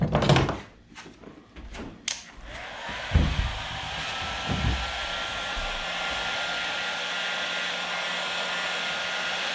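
A heat gun warming kayak plastic for a patch repair starts after a few knocks and thumps, then blows with a steady, close, loud airy whir that holds to the end.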